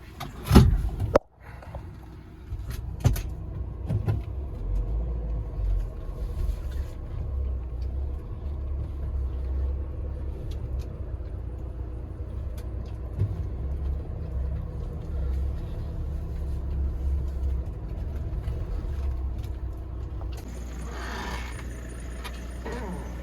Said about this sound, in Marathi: आणि इथून आता आपण आतमध्ये घेणार आहे गाडी.